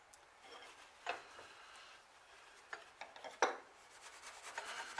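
A Mora knife blade being sharpened, with faint, irregular scraping and rubbing strokes and a few sharper rasps against quiet background.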